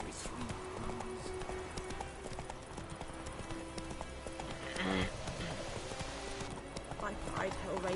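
Horse hooves clip-clop at a steady walking pace in The Witcher 3 video game, faint and continuous beneath ambient game sounds, with a brief louder burst partway through and speech over it.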